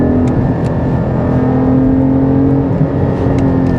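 Steady engine drone of a Porsche 718 Cayman GT4 heard from inside the cabin while cruising on a Swiss mountain pass, a constant low hum with road noise and no clear revving or gear changes.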